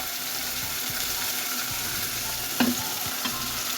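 Chopped onion and spice paste frying in a pan, a dense, steady sizzle close by with a brief clatter of a utensil near the end, no voices.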